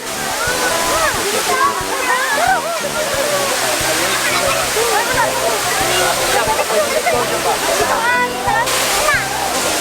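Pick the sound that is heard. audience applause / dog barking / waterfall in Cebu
waterfall in Cebu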